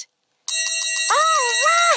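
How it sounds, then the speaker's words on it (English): A small metal bell shaken side to side so its metal clapper strikes the metal body, giving a bright, sustained ringing tone after a brief pause at the start. "when I shake from side to side, uh-huh. The metal clapper hits my metal side, like this."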